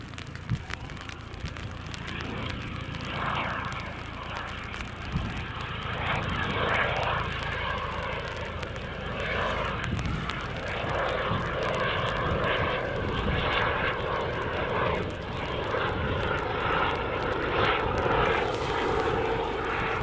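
A fixed-wing aircraft departing Newcastle International Airport produces a sustained loud engine roar that swells and holds across the whole stretch, heard from nearby outdoors with no talking over it.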